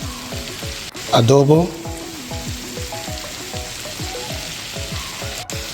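Seafood sautés in a pan for pasta with a continuous close sizzle, while a voice speaks over it and a brief metallic clatter stands out partway through.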